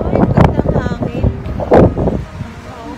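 Gusty wind buffets the microphone in rough bursts outdoors near cherry blossoms in Taiwan, with muffled voices mixed into the rumble.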